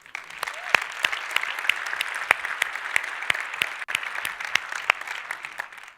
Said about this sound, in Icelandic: Mér finnst bara að klappa fyrir Hildi.